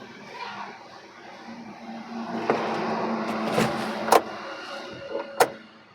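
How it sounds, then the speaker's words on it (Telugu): Electric power windows in a 2018 Maruti Wagon R VXI hatchback, a low motor whir running inside the cabin, with several sharp clicks and thumps near the end. "ఇది పవర్ విండోస్"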